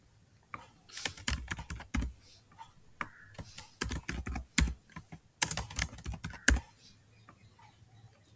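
Someone types an email address on a computer keyboard, irregular bursts of close, crisp key clicks with brief pauses between groups, no speech.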